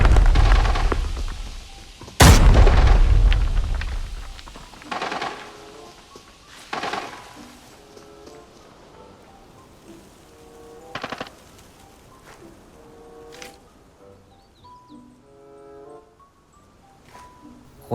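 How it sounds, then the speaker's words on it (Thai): Distant gunshots crack and boom at irregular intervals in Arena Breakout, one loud blast early on, with quieter scattered shots and faint game sounds between them. "มีเสียงปืนรอบทิศรอบทางเลย"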